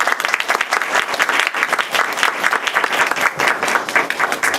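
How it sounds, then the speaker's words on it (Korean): Church congregation applauding a group after their presentation, loud dense clapping from many hands filling the room continuously from start to finish. "수고했는데 박수 한번 쳐주실까요?"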